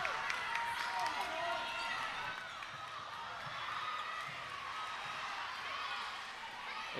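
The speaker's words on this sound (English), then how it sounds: "Crowd continues to get louder here in set 5" Crowd noise at a high school volleyball match between Georgetown and Weiss, a steady broad roar of cheering voices filling the gym throughout, with no words spoken nearby.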